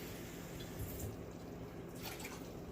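Water runs steadily into a clean cooking pot for white rice, a faint, continuous pour and trickle with no talking.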